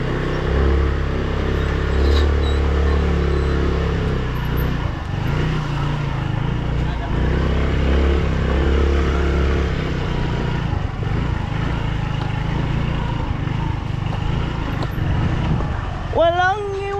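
Motor vehicles pass along a road, including a motorcycle, giving a continuous close engine drone that swells and fades over time while people talk throughout.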